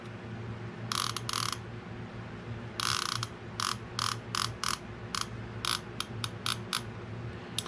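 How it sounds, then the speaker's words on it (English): Bait clicker on a used 6000 series spinning fishing reel ratcheting in quick bursts of rapid clicks, some long runs and many short spurts, close and crisp over a low steady hum. "Bait clicker."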